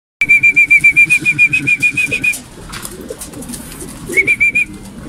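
Pigeons at a pigeon loft coo as a steady, rhythmic pulsing murmur close by, with a whistle-like tone layered over the first half and briefly again near the end.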